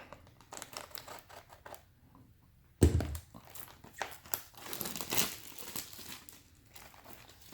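Close, quiet crinkling and tearing of plastic and foil wrapping as a Final Fantasy TCG Opus VII booster box is opened, with one sharp rip partway through followed by irregular rustling.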